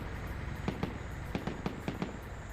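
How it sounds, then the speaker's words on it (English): Distant .50 caliber machine guns in a WW2 video game fire in short, sharp bursts of a few shots each, faint and spaced out over a steady background hum. "And you can still hear those 50 cals firing in the distance."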